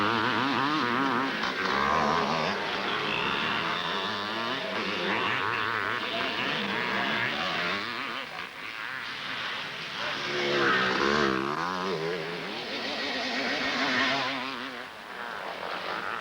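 Vintage motocross motorcycles at a classic race with Honda riders, engines droning and buzzing continuously at close range, pitch rising and falling as bikes rev and shift, with a brief dip before the roar swells again.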